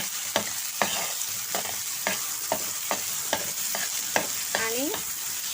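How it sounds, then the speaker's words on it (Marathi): Onion sautéing with curry leaves, garlic and tomato in a frying pan: a steady close sizzle broken by regular spatula scrapes and knocks roughly every half second, with a brief squeaky scrape near the end. "कांदा थोडंसं परतून घ्यायचा"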